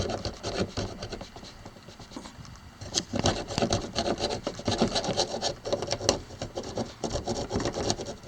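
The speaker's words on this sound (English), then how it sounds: "I've been sawing for just a couple minutes" A hand saw rasping back and forth through an aluminum trekking pole, with rhythmic close-up strokes that pause briefly and then pick up again.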